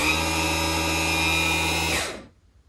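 A Mercruiser Alpha One power trim pump raising a boat's outdrive: a steady electric motor whine with a low hum that runs continuously for about two seconds, then cuts off abruptly into quiet.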